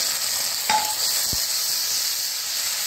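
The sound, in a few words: garlic and ginger paste sizzling with fried onions in pan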